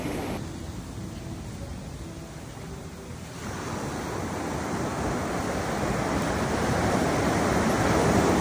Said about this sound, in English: For me, here is the beach.